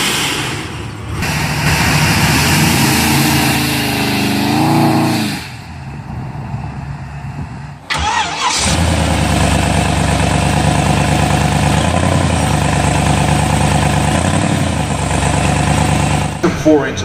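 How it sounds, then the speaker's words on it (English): Small-block Ford 427 cubic inch V8 rated at 700 horsepower in a 1967 Ford Mustang restomod, running with a loud, steady rumble that briefly dips and cuts out before resuming strongly; a voice talks over it. "powered by a small block Ford 427 cubic inch V8 engine rated at 700"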